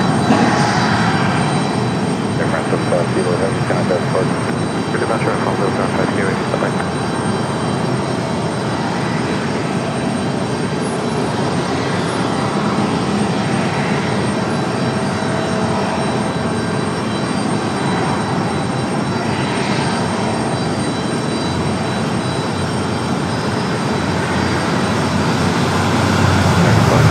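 An Air France A350 jet airliner departs Raleigh-Durham International, its engines a loud, unbroken roar that holds steady for the whole stretch and swells slightly at the end.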